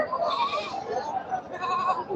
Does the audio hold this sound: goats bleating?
yes